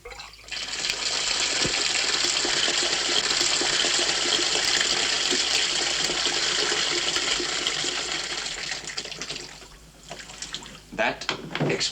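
A bathtub tap runs in a bathroom, a steady broadband rush of water that holds for most of the stretch before thinning and breaking up near the end.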